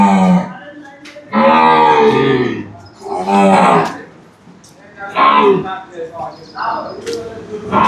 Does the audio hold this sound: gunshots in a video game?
no